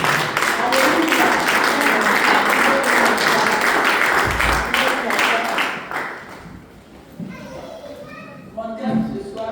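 Congregation at a French-language church service breaking into loud sustained applause and cheering, dense and close for several seconds before thinning out, with scattered voices and a few lingering claps at the end.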